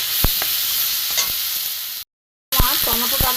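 Tomatoes with grated ginger sizzle steadily in a frying pan for a mung dal dish, a continuous close frying hiss with scraping stirs, cut by a short silent gap before the sizzling resumes.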